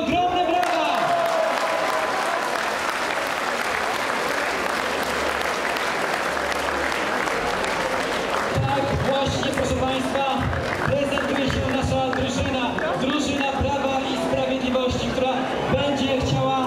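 An audience at a politician's rally in Płock applauds loudly and continuously, with a dense wash of clapping and crowd noise throughout, mixed with amplified voices and music.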